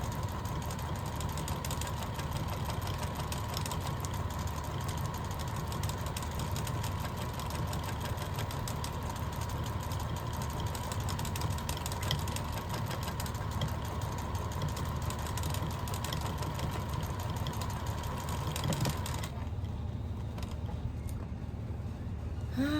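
A sewing machine running steadily while straight-stitch embroidery is sewn, a continuous mid-level motor hum with a fast needle rattle that cuts off near the end.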